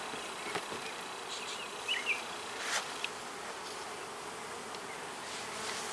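Bees buzzing inside a nuc box, a steady close hum with a few brief louder passes over the drone.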